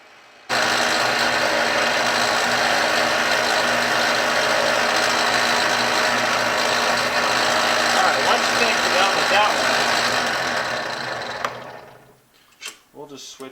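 A buffing wheel loaded with buffing compound polishes a knife, a loud steady motor drone running for about ten seconds before winding down and fading, followed by a few faint knocks.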